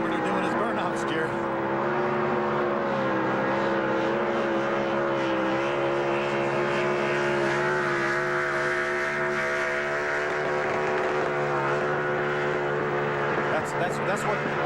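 NASCAR Craftsman Truck engine screaming at around 9,200 RPM during victory burnouts at a race, a loud sustained high-revving wail with crowd noise and commentators talking over it.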